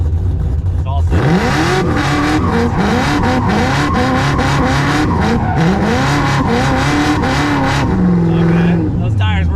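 A Cummins diesel burnout truck with a Whipple supercharger on brand-new tires roars loudly as its tires squeal and skid for several seconds, the engine revving hard throughout with voices faintly audible.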